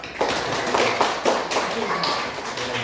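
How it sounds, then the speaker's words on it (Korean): A church congregation claps during a Sunday worship service, giving a few loose rounds of clapping in uneven bursts, fairly close and moderately loud, with some voices mixed in. "서로를 위해서 우리 감사의 박수를 하겠습니다"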